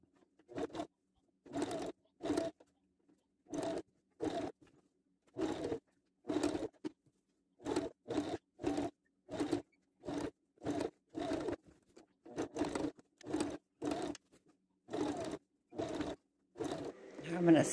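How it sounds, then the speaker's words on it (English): A sewing machine stitches lace onto a nightgown in short, evenly spaced bursts of rapid chattering, starting and stopping repeatedly at close range, faint and alone. "I'm going to sew this lace across the front on the bodice."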